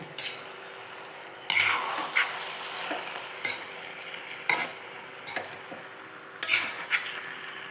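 Masala being mixed by hand with a couple of curry leaves in a bowl for kallappam batter, a run of soft scraping and clinking bursts at an irregular rhythm, moderately close, with no speech.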